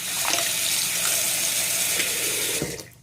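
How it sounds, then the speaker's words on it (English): Water runs steadily from a tap into a sink while a drain strainer is rinsed. The close, continuous splashing flow lasts about three seconds and then cuts off abruptly. "Maybe you're going to have to rinse it."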